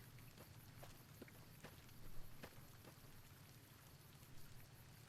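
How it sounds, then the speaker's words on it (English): Steady rain in the video game Fallout: New Vegas patters down with scattered drops ticking on a surface and a low rumbling drone underneath; no talking. "And it's raining."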